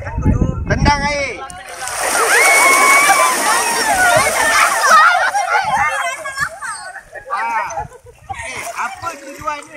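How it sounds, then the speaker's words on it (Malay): People kicking water at a basic camping course, a loud burst of splashing and sloshing in the middle, with a crowd chattering and calling over and around it throughout. "Tendang air."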